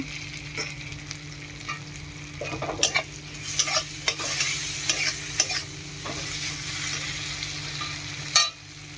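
Spices with turmeric and split green chilli fry in oil for a fish curry, giving a soft continuous sizzle broken by repeated spatula scrapes and taps against the pan.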